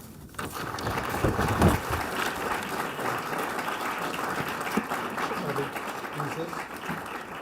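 Audience applause welcoming author Robert Ellsberg to the stage for a talk on Dorothy Day, a dense, steady wash of clapping that holds at an even level for the whole stretch.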